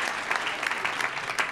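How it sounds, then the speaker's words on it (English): A crowd applauds at a magic show in the Chicago Magic Lounge, a brief, dense burst of clapping that fills the room. "Give him a round of applause."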